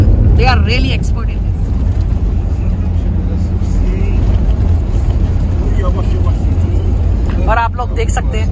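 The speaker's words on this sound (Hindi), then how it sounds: "ये इस घटिया रास्ते पे भी टूटे फूटे रास्ते पे भी 60-70 की स्पीड चला रहे हैं" A car speeds at 60–70 km/h over a rough, broken road in Gobustan, Azerbaijan, making a loud, steady low rumble of engine and road noise throughout, with people talking over it.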